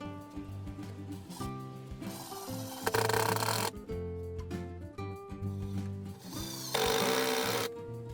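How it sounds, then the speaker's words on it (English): A power drill drives screws into a wooden backyard bench, with bursts of loud whirring and rising motor pitch separated by short pauses, close by. "We're going to drive in our pilot holes, countersink, and then we'll put our screws."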